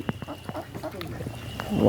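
Ducks by a village pond giving a run of short, nasal quacks in quick succession, close by, over a rustling outdoor background that grows louder toward the end.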